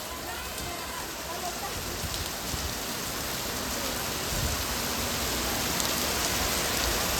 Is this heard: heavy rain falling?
yes